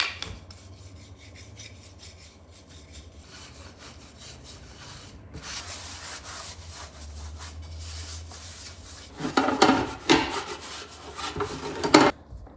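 A cloth rubs clear wax onto painted thrifted cottage furniture, with soft scratchy back-and-forth strokes, faint at first and growing louder and more rapid near the end.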